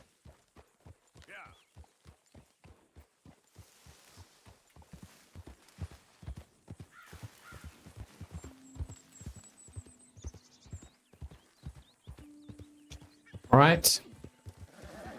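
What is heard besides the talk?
horse hooves from video game Red Dead Redemption 2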